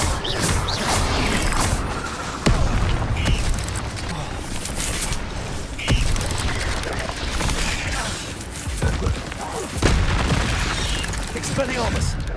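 Incendio fire spell going off in the Hogwarts Legacy video game, a dense roar of blasts, crackles and crashes that runs the whole way through, with sharper booms near the start, middle and end and a voice now and then.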